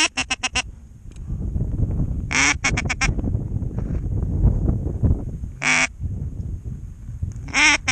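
Wigeon ducks flying in over a tidal marsh, giving repeated bursts of high whistling calls in three or four clusters against steady low wind and water rumble, fairly close and loud.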